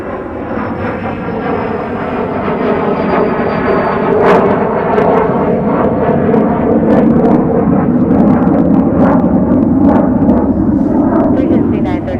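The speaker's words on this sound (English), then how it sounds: "A little Hawker heading out too." Hawker business jet departing an airport, a loud steady engine roar filling the whole stretch with a thin whine above it, close and sustained.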